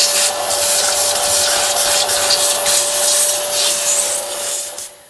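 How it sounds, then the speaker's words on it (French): A vacuum cleaner hums steadily up close while its nozzle scrapes and rubs over a condenser tumble dryer, sucking up residue, then winds down at the end. "à l'aspirateur, continuez à aspirer les résidus qui se trouvent tout autour de l'appareil."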